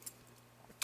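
A brief, quiet jangle of keys on a keyring holding a small Swiss Army knife, with a couple of light metallic clinks at the start and end.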